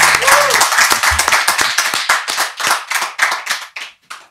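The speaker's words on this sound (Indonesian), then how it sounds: "tepuk tangan buat Tio Pakusa Dewo" Audience clapping to welcome actor Tio Pakusadewo on a talk show, a small group's brisk, loud applause that thins into distinct, rhythmic individual claps and tapers off, with faint talk at the start.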